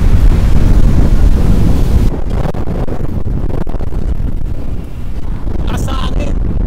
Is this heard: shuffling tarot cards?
no